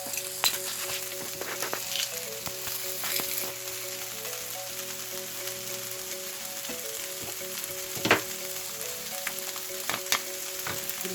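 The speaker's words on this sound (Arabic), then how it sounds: "ندير واحد الثومه في هذا البصل،" Garlic frying with onions in a pan, a steady broadband sizzle throughout with a few sharp crackles and spatters, close and fairly loud, with no talking.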